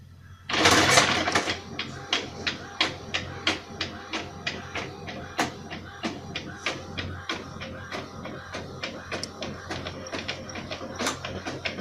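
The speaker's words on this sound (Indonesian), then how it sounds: "kita bisa langsung mencetak undangan ini di printer inkjet" An inkjet printer prints wedding invitations, with a loud burst as it starts, then a run of rhythmic mechanical clicks and carriage passes repeating steadily at moderate volume.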